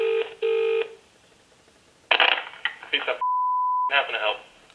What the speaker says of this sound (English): Let me call them again.